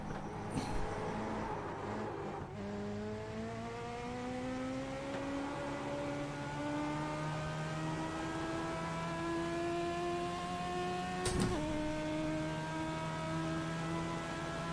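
A racing car accelerates in a sim racing game during a charity race event, its engine whine climbing steadily in pitch with a gear change early on and another sharp shift near the end.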